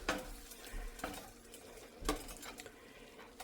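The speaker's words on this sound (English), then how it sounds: "We're going to give this a good stir." Pasta with salmon being stirred in a hot pan, quiet scraping and clinking strokes recurring about once a second over a faint background, no talking.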